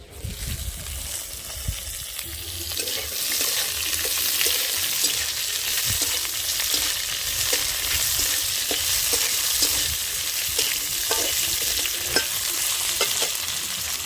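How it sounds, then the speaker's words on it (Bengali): Bay leaves and raw mango dropped into frying red lentil dal, giving a loud, steady sizzle with crackling and stirring clicks throughout. "এবার আমি তেজপাতা দিয়ে দিচ্ছি। এবার সব শেষে কিন্তু আম দিয়ে দিচ্ছি।"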